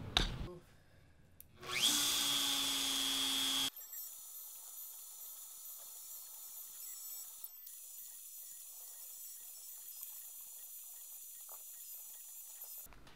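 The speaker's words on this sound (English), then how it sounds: "So now I've got to cut these pockets out." A Shapeoko XXL CNC router spins up with a loud, steady high whine for about two seconds while cutting pockets, then cuts off, leaving a faint hum and scattered small ticks.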